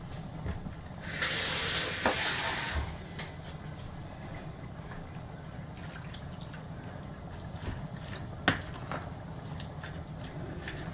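Minced meat and vegetable sauce frying in oil in a pan, stirred now and then: a short burst of loud hissing sizzle, then quieter bubbling and occasional soft scraping taps, with no voices.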